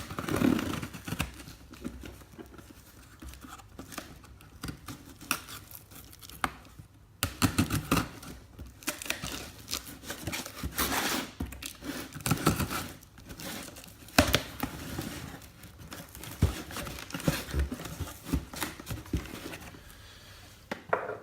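Protective paper crinkles and rustles while a Nismo R-Tune pod filter is unboxed, close by, as a steady run of crackling handling noises with sharper bursts throughout and no talk.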